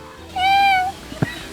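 A person imitates a cat's meow with a single drawn-out, rising-and-falling mew, fairly close and clear, followed by a brief soft knock.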